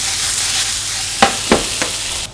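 Avocado spooned into a pan is stir-fried over a constant sizzle, with three sharp spoon knocks in quick succession near the end.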